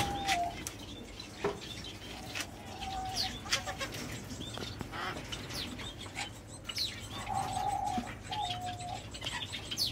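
A pair of white zebra doves gives soft repeated cooing calls over a steady background, with occasional short bursts of wing flapping and rustling, fairly close by.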